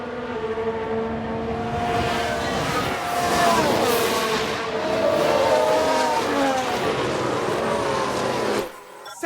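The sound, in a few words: F1 car spinning off in a crash, from video game F1 Manager 22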